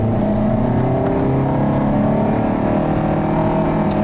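A 2011 Nissan Rogue with a CVT accelerates steadily, its engine drone holding a smooth, continuous pitch with road and wind noise close and loud throughout, no voices over it.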